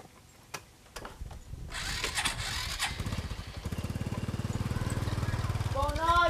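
A motorcycle engine is started with a couple of clicks and a short cranking whirr, then catches and settles into a steady, close putter that gradually gets louder.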